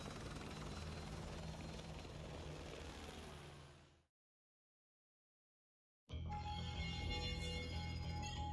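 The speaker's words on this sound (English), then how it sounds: "On the chopper, let's go." Helicopter in Call of Duty MW2 Remastered, a loud steady rotor-and-engine drone that cuts out for about two seconds, then returns just as strongly.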